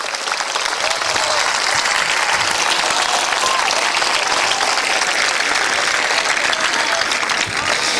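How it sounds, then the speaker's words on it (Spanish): A church congregation at a Spanish-language sermon bursts into applause, dense and sustained clapping filling the room evenly for about eight seconds without a break. "Démosle un aplauso al Señor para eso."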